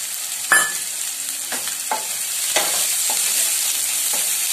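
Onions browning in a pan for chaat, a continuous sizzle broken by several sharp stirring scrapes and clicks of a utensil, close and fairly loud, with no talking.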